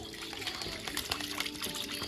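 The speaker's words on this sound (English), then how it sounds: "You swish it around in your warm water, it looks like this." A washing sheet swished by hand through a bucket of warm water, giving soft sloshing and splashing with small irregular surges, close up and moderately quiet.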